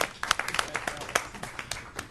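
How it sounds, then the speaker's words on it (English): Sparse, scattered claps from a few people at a Board of Directors meeting, light and uneven, fairly faint. "that deserves a round of applause"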